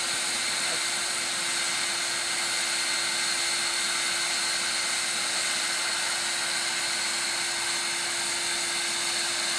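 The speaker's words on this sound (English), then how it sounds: "Now this takes a while, but the vacuum is at a very low speed, so it doesn't hurt the bees." A vacuum running at low speed to suck up bees from a feral hive in a tree limb, a steady continuous whooshing hum with a constant tone throughout, fairly close and with no talking.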